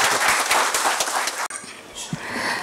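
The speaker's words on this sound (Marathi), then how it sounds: "सर्वांनी जोरदार टाळ्या वाजवून आपल्या मॅडमचे" Loud, dense applause from an audience at a Maharana Pratap Jayanti lecture series event, steady clapping for the first half, then a brief break before a quieter crowd murmur with scattered claps continues.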